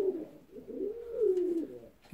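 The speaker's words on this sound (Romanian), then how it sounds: "Ia uitați ce porumbei frumoși și foarte sănătoși." Fancy ornamental pigeons give a soft, rolling coo, one drawn-out call that swells and fades, close and clear with no talking.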